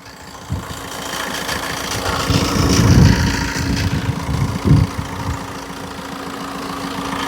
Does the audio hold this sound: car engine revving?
yes